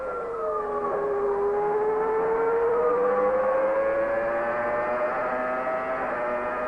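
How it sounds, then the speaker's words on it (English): Damon Hill's Formula One car climbing up from Tosa, a loud high-pitched engine whine sweeping upward through the revs with a gear change near the end, continuous and close. "Listen to the gears, he's climbing up from the Tosa."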